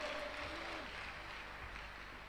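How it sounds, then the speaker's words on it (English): A congregation claps continuously through a Sunday worship service, a dense steady patter of many hands, with a singing or speaking voice faintly underneath. "Clap unto God of the chosen."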